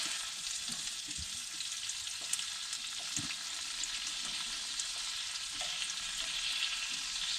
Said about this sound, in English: We're going to saute this.